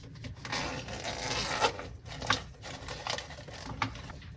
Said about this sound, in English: it's got a zip closure